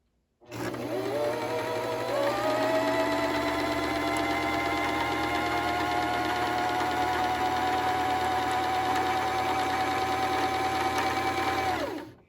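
A sewing machine runs its bobbin winder at a steady high speed, spinning thread onto a bobbin; one continuous, close mechanical whir with a rising pitch at the start, holding even for about eleven seconds before cutting off.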